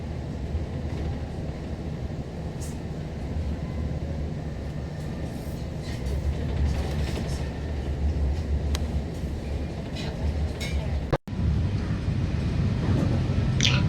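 Passenger train on the Xining to Lhasa railway in Tibet, a steady close rumble of wheels and carriage noise with faint clicks, briefly cut by a sharp break near the end.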